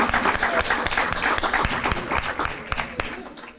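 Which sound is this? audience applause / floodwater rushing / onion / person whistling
audience applause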